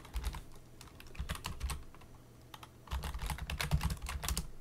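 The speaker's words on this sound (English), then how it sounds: "Let me just type here." Keys clatter on a computer keyboard in irregular bursts of close, crisp taps, with a pause in the middle before a faster run of typing.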